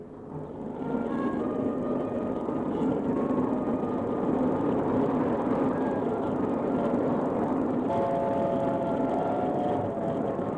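A steady, heavy rumble of a train in motion, continuous and loud, with faint tonal whines drifting over the droning roar.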